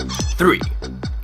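Chickens in GTA 5 cluck loudly and close in a quick run of four or five throaty, falling calls.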